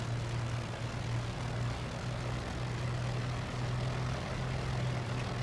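A Supermarine Spitfire Mk I piston engine idling steadily while taxiing and turning on the ground in Microsoft Flight Simulator, a constant low propeller drone with a throbbing hum, loud and close throughout.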